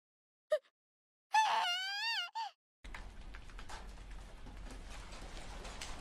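Hail falls in the video game Sword Art Online Last Recollection, a dense, steady rushing patter that starts abruptly after a few short vocal sounds and a warbling tone.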